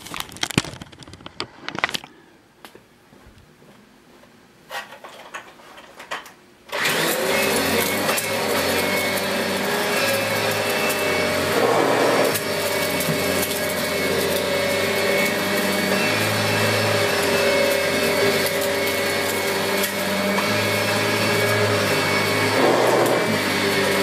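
2003 Kirby Ultimate G (G7E) vacuum cleaner with an overfull bag, brief clattering and short bursts before the motor kicks on loudly and drones steadily, sucking up debris with intermittent crunching pickups.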